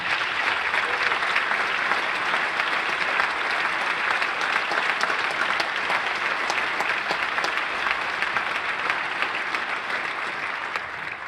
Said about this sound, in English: give the faculty and staff a big round of applause to thank them